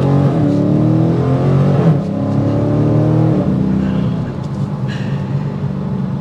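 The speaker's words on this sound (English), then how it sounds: "That exhaust note that filters in." Heard from inside the cabin, a 2023 Dodge Challenger Scat Pack's exhaust note rises and falls as the engine revs, loud and close with a deep, throaty rumble over a steady drone.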